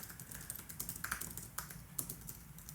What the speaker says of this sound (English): you can type right on the screen